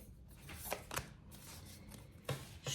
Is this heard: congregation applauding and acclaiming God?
no